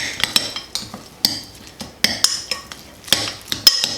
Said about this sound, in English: And then I'm gonna kind of just mix it all together.